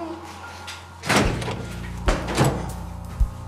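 Knocks land on a door in a domestic TV drama scene: a few dull, separated thumps close by, with faint voices in the background.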